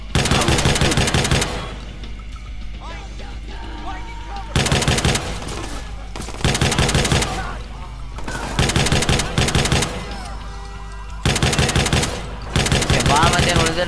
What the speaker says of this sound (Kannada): ಇದು ಗನ್ ಚಲೋ ಅದ